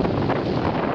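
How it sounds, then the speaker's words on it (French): Wind roars across the microphone aboard a racing sailboat running under spinnaker in the Barcelona World Race, a steady loud buffeting rush with no voices. "Le vent vient de mollir un petit peu."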